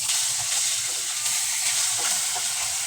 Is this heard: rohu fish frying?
yes